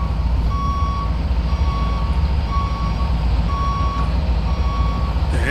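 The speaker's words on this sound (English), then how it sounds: "The engine sounds like a school bus." A school bus's diesel engine idles with a loud, steady low rumble while a reversing alarm beeps at regular intervals over it.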